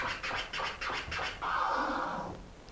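A DJ works a vinyl record back and forth on a turntable, giving a run of five quick rhythmic scratches and then one longer, sustained scratch stroke. It is moderately loud, with no talking.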